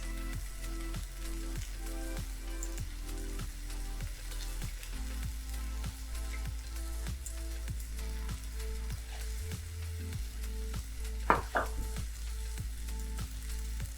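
Sugar snap peas and spring onions sauté in a pan with a soft, even sizzle, overlaid by a steady rhythmic ticking and a brief clatter near the end.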